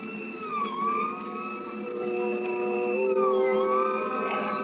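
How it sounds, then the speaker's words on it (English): A police siren wailing in an old-time radio suspense drama, its rising and falling tone sweeping steadily and fairly loud for several seconds with no talk over it. "We both heard the siren then."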